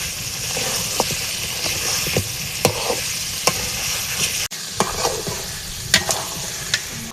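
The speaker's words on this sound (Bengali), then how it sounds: "এবার পরিষ্কার করা খুঁড়োগুলোরে দিয়ে দিলাম, একসাথে মশলার লাগে কষাই নিই।" Cleaned trotters sauté with whole garam masala spices in a pan for nihari, loud and close, with irregular spatula scrapes and clacks over a steady frying sizzle.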